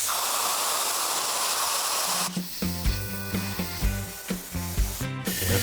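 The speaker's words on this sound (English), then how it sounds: "So he's gonna end up gas welding right through" A gas welding torch hisses against a steel car body panel, a broad steady rush that gives way to a run of rhythmic metallic taps and clinks, close and loud, with no voices.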